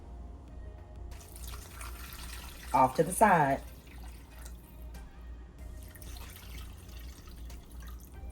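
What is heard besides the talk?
pouring a quart of water into a cooking pan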